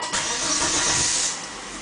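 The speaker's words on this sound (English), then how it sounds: "we'll start the engine and just make sure it" A Volvo S60 engine cranks and catches after a spark plug and upper engine mount replacement, then settles into a steady, hissy running sound close by.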